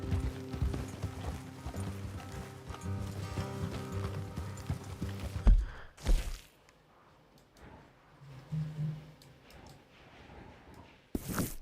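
Steady clip-clop of horse hooves in Red Dead Redemption II with a musical backdrop, then a sudden stop followed by quieter shuffling and a few soft thuds.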